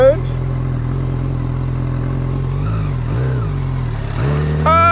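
A Honda CB1000R motorcycle engine idles steadily and then pulls away for a U-turn, with the revs dipping and rising near the end, heard close up.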